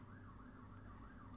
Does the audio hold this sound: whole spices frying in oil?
no